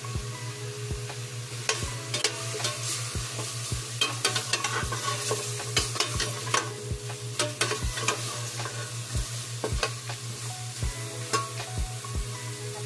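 Pork ribs and ginger sauté in a dry, oil-free pot for nilagang buto-buto, with a steady low sizzle and regular scraping stirs repeating roughly every second throughout, close and moderately loud.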